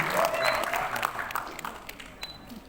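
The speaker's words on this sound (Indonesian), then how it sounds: "Beri tepuk tangan yang meriah untuk Anda" An audience at a South Jakarta election-commission talk event applauds, the dense clapping strongest at first and then thinning and fading away.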